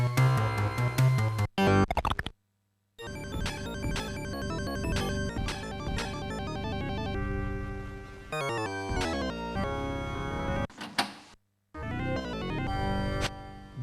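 Chiptune game music from L'Abbaye des Morts in its Sega Genesis version plays alone, busy synthesized melodies and bass broken by a few brief silent gaps between short passages.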